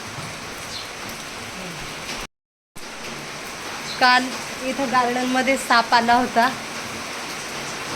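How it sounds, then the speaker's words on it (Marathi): Rain falling steadily in a garden, a soft continuous hiss throughout with a brief dropout, while someone talks over the latter half. "असं ऊन पावसावानी पाऊस पडू राहिला आहे."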